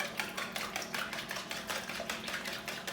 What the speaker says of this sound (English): you're going to take your whisk, or if you don't have a whisk, you can use a fork. And you're going to whisk them all together.